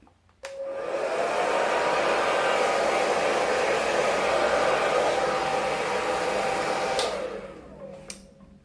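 A hair dryer switches on and blows steadily for about six seconds to dry liquid latex Halloween makeup on skin, a loud, close, even whooshing roar that cuts off abruptly, followed by a couple of small clicks.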